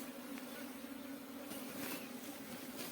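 Honeybees (Apis cerana indica) buzzing around a hive box, a steady close droning hum that continues without a break.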